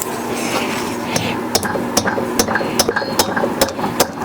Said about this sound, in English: I always use a rubber mallet